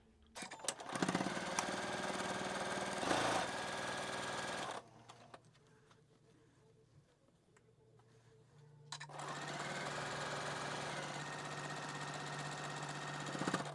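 A sewing machine stitching quilt pieces for a tulip pattern, a steady close whirring run of about four seconds, a quieter pause, then a second long continuous stretch of stitching.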